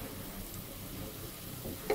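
Onions fry in hot oil in a cooking pan, giving a steady, soft, continuous sizzle close by with no one talking.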